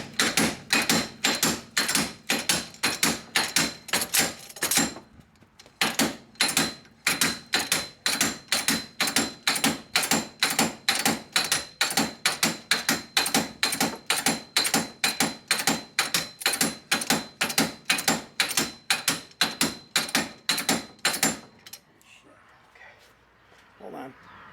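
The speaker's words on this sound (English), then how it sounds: "the slide hammer" A slide hammer pulls a wheel bearing on a second-generation Toyota Prius, striking in a long, fast, even run of loud metallic clanks with a brief pause near the start, then falling quiet at the end.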